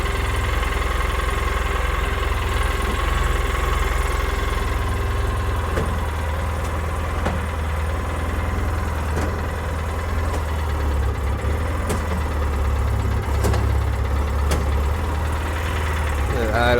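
A UTV engine idles steadily with a low, continuous rumble up close, while a person talks over it.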